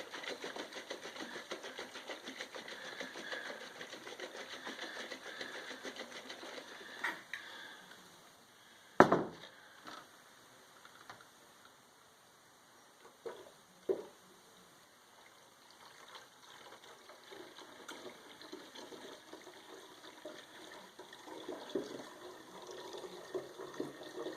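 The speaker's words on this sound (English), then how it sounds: "Make sure all the honey and the juice is kind of mixing and dissolving together." Honey and strawberry lemonade juice are mixed together for a batch of mead, giving faint, continuous sloshing and churning liquid with one sharp knock partway through and quieter splashes afterward, without speech.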